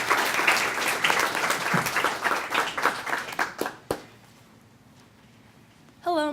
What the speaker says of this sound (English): Round of applause for Michaela.